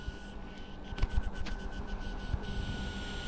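The built-in cooling fan of a Nubia Red Magic 5G gaming phone gives off a steady, faint whirring hum with a thin high whine running through it, heard up close and alone.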